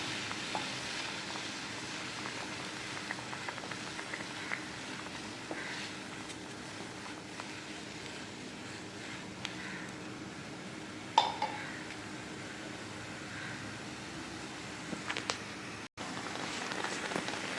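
Goat brain fries in a pan with a steady, close sizzle that runs throughout, with occasional light clicks and scrapes from stirring and no talk.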